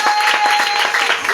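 A church congregation applauds during an evening worship service held on a day of a worldwide fast, a steady dense wash of clapping hands that continues unbroken and fairly loud from start to finish.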